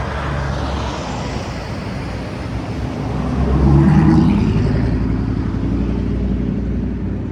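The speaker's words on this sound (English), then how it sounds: "I'm going to let this traffic pass" Road traffic rolls past outside: a steady roar of passing vehicles swells as one loud car or truck goes by close, then eases back to a continuous rumble.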